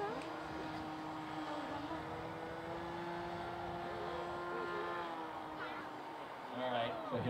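A radio-controlled model shaped like Snoopy's flying doghouse drones overhead at a model aircraft air show, its engine a steady sustained whine holding near and fairly level throughout, with a brief rustle at the end.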